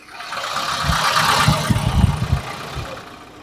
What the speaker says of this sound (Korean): 제가 엔진 소리를 들려드리기 위해서 엔진 룸을 열었거든요.